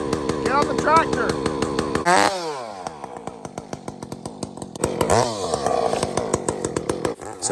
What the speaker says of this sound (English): I'm going to cut that little one down behind it too, Ty.